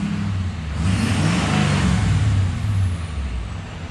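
Loud, close rev of a straight-piped Ford F250 pickup engine with a turbo, rising to a sustained roar with airy turbo whistle and then easing back, with no voices.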